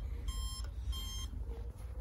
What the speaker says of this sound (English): unlock the gimbals, or else you'll get that beeping noise